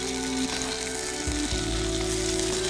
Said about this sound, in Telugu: సో ఈ ఇడ్లీ పీసెస్ అన్ని కూడా చక్కగా ఫ్రై అవ్వాలండి